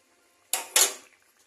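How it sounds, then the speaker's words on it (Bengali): Paneer pieces dropped into simmering vegetables in a pan, giving two quick clattering metallic hits in close succession, followed by a short fading rattle and then quiet. "তো সবজিটা ফুটতে শুরু করে দিয়েছে, এবারে এই অবস্থায় আমি পনিরগুলো দিয়ে দেবো"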